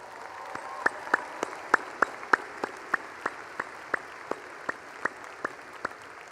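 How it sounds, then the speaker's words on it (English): At a spring graduate school commencement, a slow, even run of distinct claps rings out, roughly three per second over a soft background, sounding like a few nearby hands rather than a dense crowd. "Let's give them a round of applause."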